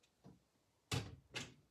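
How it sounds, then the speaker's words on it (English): A door is being shut, with a soft knock followed by two sharp thuds close by in a quiet room. "I'm going to close the door"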